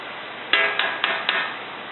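Four sharp metallic hammer blows on a Toyota Camry tie rod end in quick succession, close and distinct against a quiet background.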